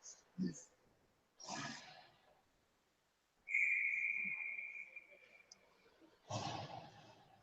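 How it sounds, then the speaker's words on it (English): A referee's whistle sounds once during a youth AA ice hockey game in an arena. The single sustained blast lasts about two seconds and is fairly loud against faint crowd and rink noise, with a commentator talking before and after. "the official thought maybe it might have gone in. Inadvertent whistle."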